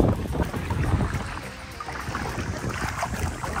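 Wind gusting at a beach in Boracay, a rough, blustery rush blowing across the microphone, loud and steady without talk.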